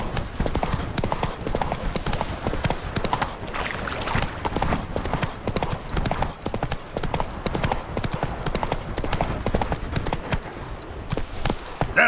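Hooves of Roach, the horse in The Witcher 3: Blood and Wine, clip-clop in a steady, close rhythm, loud and continuous, with a faint voice briefly underneath.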